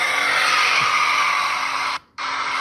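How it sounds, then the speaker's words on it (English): Car burning rubber with tires spinning in a crowded street, a loud sustained broadband roar with steady squealing tone that drops out briefly near the end, then resumes. "He's burning rubber."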